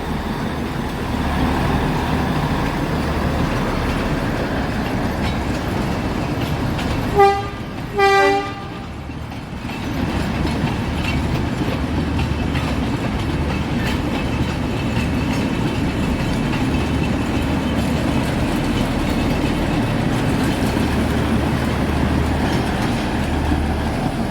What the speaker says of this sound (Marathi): माथेरानची mini Troy train Matheran to Aman lodge